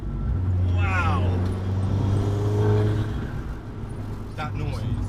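A tuned Abarth 695 Biposto MTA making about 300 bhp, fettled by Tune 4 Performance, revs hard from inside the cabin with rising engine tones and speech over the drone throughout.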